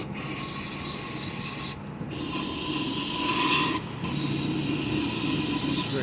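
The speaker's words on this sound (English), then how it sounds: "Spray it out with like some carb cleaner." Close, hissing bursts of spray from an aerosol can of carb cleaner into a Troy-Bilt TB430 blower carburetor, two short pauses breaking the otherwise continuous spraying.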